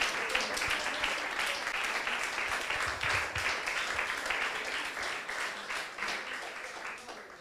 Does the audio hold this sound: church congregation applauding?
yes